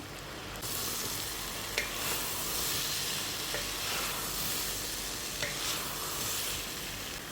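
Chopped tomato sautéing in oil for veg kurma, a steady broadband sizzle with a few sharp crackles and stirring scrapes throughout, close and fairly quiet, with no voices.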